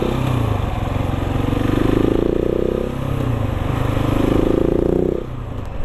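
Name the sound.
Husqvarna 701 supermoto motorcycle engine revving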